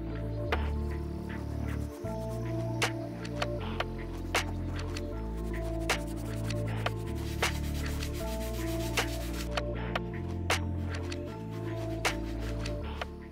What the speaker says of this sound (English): we're gonna move on to the medium bristle brush, which will take this and we're gonna use it all on these plastic and rubber outsoles